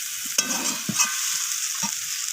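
A soybean and cauliflower curry with Kashmiri chili powder is stirred in a pan: three or four soft scraping strokes of the spoon sound over a faint, steady sizzling hiss, close and quiet, with no voices.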